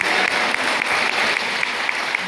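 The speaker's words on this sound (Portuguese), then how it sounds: "Uma salva de palmas para essa família." An audience claps for a family at a gathering. The applause is steady, dense and sustained for a couple of seconds with no voices over it.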